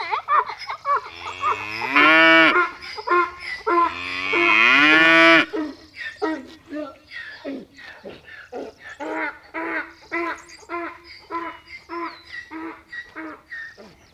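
Cattle on a farm bellow two long, loud moos close by early on, followed by quieter, shorter lowing calls from the herd.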